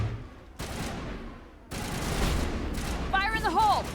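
Bursts of rapid gunfire in the Mass Effect video game come in several loud volleys separated by brief lulls, with a warbling electronic effect near the end and a voice talking over it.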